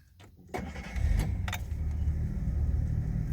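A restored Jaguar XJ6 Daimler Sovereign Series 1 fires up for its first drive in years: a couple of clicks and a short crank, then the engine catches and settles into a steady, close, rumbling idle.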